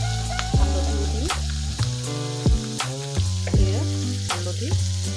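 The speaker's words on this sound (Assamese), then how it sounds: "শুকান মাছখিনি পূৰা ৰঙা হোৱাকৈ ভালদৰে ভাজিব" Dried fish sizzles and crackles in hot oil with turmeric in an Assamese home kitchen, a steady close fry broken by several sharp scraping stirs.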